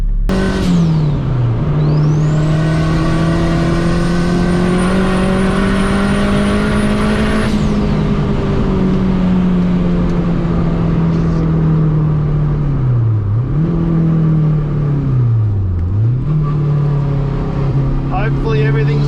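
A 400 horsepower Honda Civic pulls hard on a race track at Sandown, its loud engine note climbing steadily and dipping between gears, with a high whine above it and constant nearby roar throughout.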